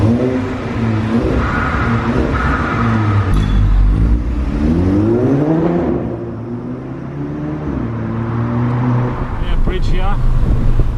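A Volkswagen GTI with a Milltek exhaust drives by, its engine revving and rising then falling in pitch with a deep, loud tone, with talk over it.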